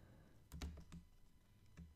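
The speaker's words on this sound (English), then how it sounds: "watch, I'll start typing words" Computer keyboard typing while an article about small business loans is drafted, with a few scattered keystrokes clustered together, moderately close and fairly quiet.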